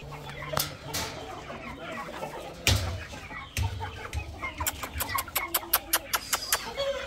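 Chickens cluck and squawk close by, with a flurry of sharp clucks picking up toward the end over a low background hum.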